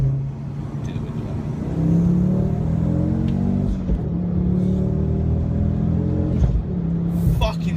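A Ford Focus ST's engine and exhaust rumble loudly from inside the car, revving and rising in pitch through the gears, with voices mixed in.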